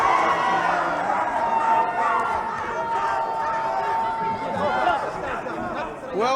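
A fight crowd at a Rising Stars bout between Sultan Al Nuaimi and Jemsi Kibazange, loud continuous chatter and shouting that swells near the end, with commentators talking over it.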